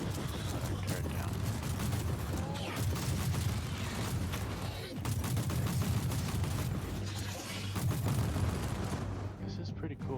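Continuous turret gunfire in the video game Warhammer 40k Martyr, a steady dense rattle of shots with rumbling low booms that runs the whole time and thins out only at the end.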